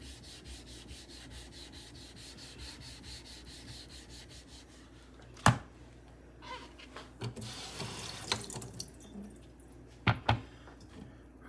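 A little water is worked across a Nano 12K whetstone to raise slurry while honing a Kampfe Bros Star Blade safety razor blade, with soft wet rubbing, a few sharp taps and a brief splashy stretch, close up and quiet.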